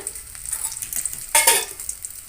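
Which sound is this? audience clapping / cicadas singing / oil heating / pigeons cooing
oil heating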